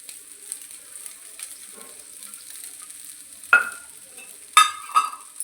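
A bread sandwich filled with potato and snake gourd fries in oil in a pan, with a quiet background hiss broken by a few sharp sizzling bursts as fresh oil hits the pan.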